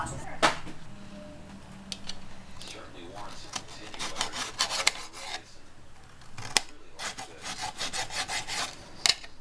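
A knife chops and slices food on a board in irregular crisp strokes, close and fairly loud, with a soft voice murmuring faintly underneath.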